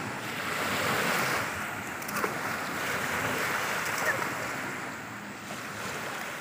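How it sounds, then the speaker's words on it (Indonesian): Waves washing against the shore of Lake Poso on an afternoon, a steady broad surf wash with wind noise buffeting the microphone, fairly loud and continuous throughout. "Ombak yang gagah."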